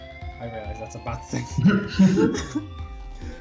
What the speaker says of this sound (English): Is that a fire alarm?